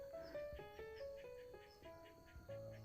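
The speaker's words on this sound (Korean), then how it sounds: "이 새소리 들리시나요?" Birds singing near a countryside garden: faint, clear whistled notes in a short repeating melodic phrase, soft and at a distance over quiet background hum.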